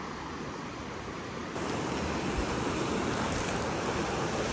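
The Domi river, a rocky Nepali hill stream, rushes continuously close by, a broad unbroken roar that swells louder partway through; no voices are heard.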